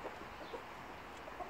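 Chickens cluck softly in a farm run with a flock of red hens, brief low calls scattered over a quiet background.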